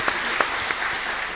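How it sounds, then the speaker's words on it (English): Audience at a panel discussion event applauding at the close, a dense steady clatter of many hands clapping together, fairly close and unbroken for the short span. "I would like everyone to give a round of applause to this conversation."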